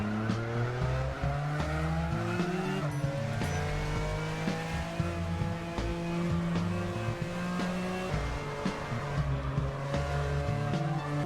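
A car in a Roblox racing game is driven with a steering wheel, its engine note repeatedly climbing through the gears and dropping at shifts, with occasional tire squeals over a steady synthetic drone.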